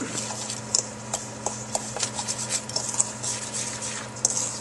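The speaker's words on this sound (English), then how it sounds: "And you're going to mix this all up." A spoon stirring tamale masa with baking powder in a bowl in a home kitchen, steady soft clicking and scraping taps at an irregular rhythm, close and fairly quiet over a low hum.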